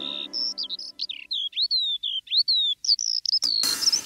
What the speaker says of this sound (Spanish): Si hago silencio yo puedo escuchar un pájaro cerca trinar.